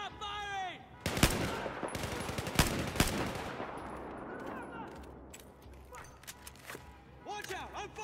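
Bursts of Battlefield 4 gunfire crack out in sharp, loud volleys with several separate shots in quick succession, while shouted voices and other game sounds fill the gaps around them.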